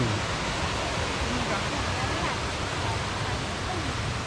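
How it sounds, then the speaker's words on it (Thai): The nine-tiered waterfall at Suan Phueng, Ratchaburi, produces a constant, dense rushing roar of falling water that stays even and loud throughout, heard from close by. "ไหนน้ำตกนี่ไงน้ำตก"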